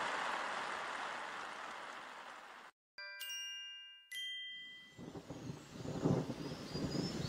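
Story sound effect of a thunderstorm with rain: a constant rushing hiss of rainfall cuts out, ringing chime-like tones follow, and then a louder rumbling, windy storm wash builds again.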